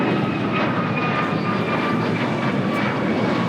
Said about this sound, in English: This is United Airlines 1554 taking off to Washington Dulles on a MAX 9.